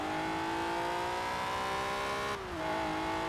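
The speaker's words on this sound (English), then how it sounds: "That exhaust note is mad. It's just so old school, really raspy." A raspy retro Alfa Romeo engine in a racing video game drones steadily at high revs, briefly dropping in pitch as it shifts, then pulling again.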